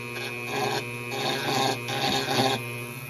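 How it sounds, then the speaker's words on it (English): A Dremel rotary tool smooths the inside of a bullet, giving a steady high motor whine with rhythmic rasping pulses as the bit works around the metal. "turn on the Dremel tool"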